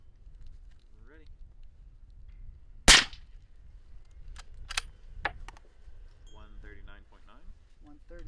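A Thunder Beast airsoft shotgun fires during a sound test, giving a single sharp, loud shot that cracks out close by and dies away quickly. People talk briefly around it in an otherwise quiet space.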